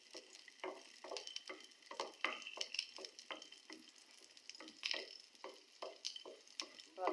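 Nuts, with raisins, frying in a pan while a spoon stirs them, giving crisp repeated scraping strokes in an irregular rhythm over a light sizzle, close and clear.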